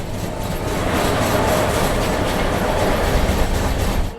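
A Rajdhani Express train runs at speed, heard from inside a first-class AC coach as a loud, continuous rumble with steady rolling wheel noise and faint clatter.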